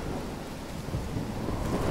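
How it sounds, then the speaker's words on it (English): Thunderstorm in the Life Is Strange video game, set in Oregon: steady heavy rumble of rain and rolling thunder fills the scene continuously at a fairly even level, with no talking. "I've never seen a storm like this in Oregon."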